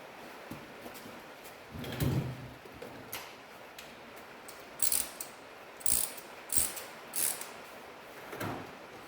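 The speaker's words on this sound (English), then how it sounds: "Here is my little ratchet." Small ratchet wrench working during a clutch replacement on a Hyundai i10 with a worn, slipping clutch; several short, close bursts of ratcheting clicks separated by pauses.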